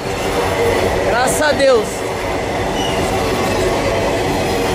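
A freight train rolls along an export rail corridor in Brazil, a steady loud rumble of wagons and wheels throughout, with a brief screech of wheels and a voice speaking over it.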